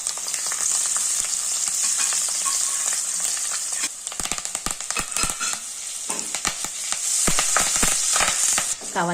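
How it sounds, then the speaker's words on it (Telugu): Garlic fries in a pan until it turns reddish, a steady loud sizzle with scattered crackles and pops that grow busier toward the end, with no talking. "ఎల్లిపాయ ఎర్రగా కాల్చుకోవాలి"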